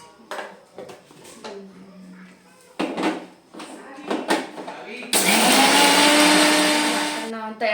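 Mixer grinder blending coriander, garlic, green chillies and ginger into a paste, a loud steady whir running from about five seconds on after quieter kitchen clatter and talk earlier.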